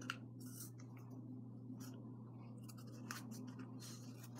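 Tape being pulled and wrapped around a homemade TNT shooter: several short, crackling rips and stretches, close up and fairly faint, over a steady low background hum.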